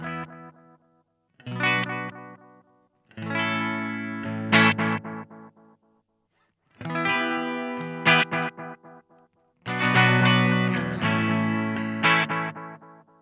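An Analog Alien Rumble Seat delay pedal on electric guitar: four strummed chord phrases with gaps between, each trailed by repeating echoes that decay, loud and close with no talking.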